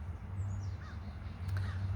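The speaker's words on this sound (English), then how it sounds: "the crows keep flying around" Crows cawing somewhere outdoors over a steady low rumble of background noise, a few short calls rising faintly and at a distance.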